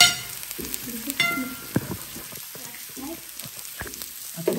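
Potato and sausage sizzle on a tabletop grill at a New Year meal in Switzerland, a steady crackling fry with soft stirring and clinks and faint voices in the background.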